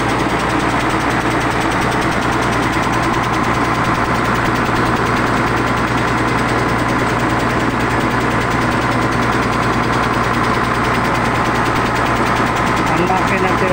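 A rice mill machine engine runs continuously on a dry run with a steady, dense rumble and rattling hum, loud and close, unchanging throughout.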